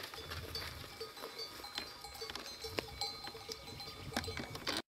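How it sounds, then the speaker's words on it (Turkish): A herd of goats walks with a shepherd toward a dam, giving a steady outdoor bustle of hooves, rustling and scattered bell-like clinks, with faint animal calls mixed in throughout. "Tüm keçiler oraya gidiyor değil mi şimdi?"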